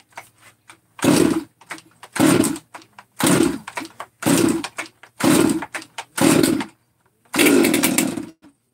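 A rebuilt Stihl 200T chainsaw is started and revved, giving seven sharp, loud bursts of snarling engine noise, each about a second long, separated by short quiet gaps where the engine drops back to a faint idle.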